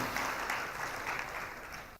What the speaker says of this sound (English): Please give another big round of applause to start this morning event.